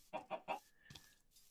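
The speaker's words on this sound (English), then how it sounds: "It's me and Mr. Chicken over here." A Minecraft chicken clucks three times in quick succession, followed by a softer cluck and a brief tone; faint and close, with no talk.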